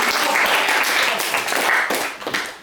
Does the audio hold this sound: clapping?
yes